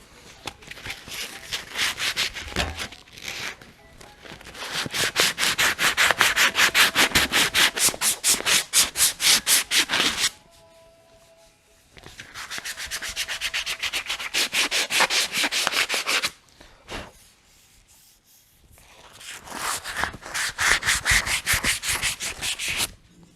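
Hand sanding with a fresh sheet of 180 grit sandpaper: fast, rhythmic rubbing strokes in three long loud bursts separated by short quiet pauses.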